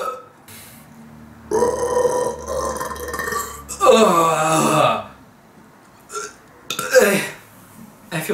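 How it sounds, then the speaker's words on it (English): A person lets out a long, loud, deep burp, a drawn-out guttural belch lasting a couple of seconds, followed by a second rumbling eructation, with brief talk between. "see how big and deep of a burp I can get."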